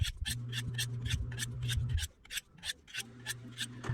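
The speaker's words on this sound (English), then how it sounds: "let me just touch it up with my knife steel here" A knife edge is honed on a knife steel, giving a steady series of short, bright rasping strokes in an even rhythm, close up and alone, with a low hum underneath for much of the time.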